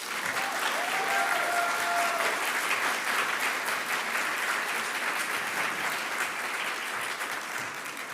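An audience at a Master of Nursing hooding ceremony breaks into sustained, full applause, a thick wash of many hands clapping evenly for the whole stretch, with faint crowd murmur underneath.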